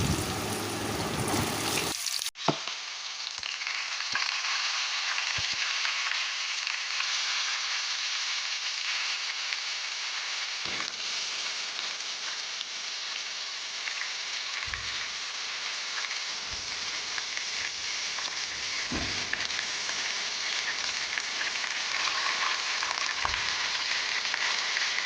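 Potato halves scooped for stuffed Kashmiri aloo dum drop one by one into hot oil in a kadai, setting off a loud, steady broadband sizzle with occasional sharper crackles and soft clinks, no voices.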